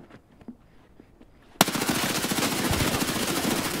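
Automatic weapon fire in the video game Escape from Tarkov: after quiet, faint movement sounds, a loud sustained burst of rapid shots starts abruptly and continues to the end.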